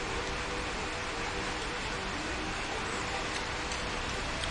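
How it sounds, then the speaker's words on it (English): Steady, even hiss of rain falling outdoors, continuous and moderately loud, with no other clear sounds. "it's raining. And it's raining all night and now into the morning"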